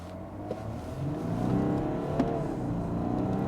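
An Audi Q8 50TDI accelerates from first gear, its engine rising in a smooth, building hum heard from inside the car, moderately loud and steady with light thumps.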